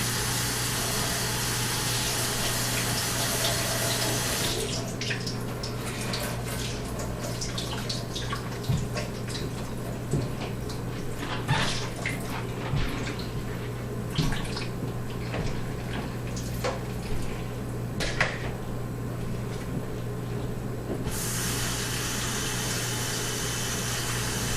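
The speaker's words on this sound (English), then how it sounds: "Maybe put some more water." Tap water runs steadily into a pot for about sixteen seconds, a broad hiss with small splashes and clinks, set against a low constant hum, with no talking.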